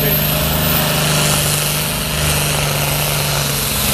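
A loud pulling tractor's engine at a tractor pulling competition in Pezzolo di Russi runs steadily with a constant drone and slight variations in pitch, close by and continuous.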